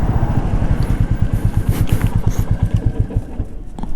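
A Royal Enfield Meteor 350 motorcycle engine thumps in a steady, rapid low pulse close by, running continuously and fairly loud with no talking over it.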